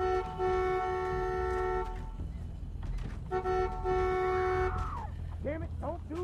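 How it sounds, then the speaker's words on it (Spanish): Two long, steady car horn blasts sound in the game The Walking Dead: Season Two, the second following a short pause, each loud and sustained over a low rumbling background. "creo que voy a tener que tocar el claxon"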